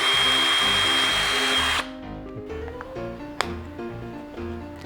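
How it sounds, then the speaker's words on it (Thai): A power drill whines steadily at high speed for nearly two seconds while drilling a pilot hole for a screw in a PVC electrical panel, then cuts out, leaving a lower motor hum and faint clicks. "เราควรเจาะรูให้เล็กกว่าสกู หน่อยหนึ่งก่อน"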